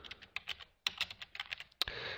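Quick bursts of keystrokes clatter on a computer keyboard as a name is entered into a form, close and crisp with short pauses between words.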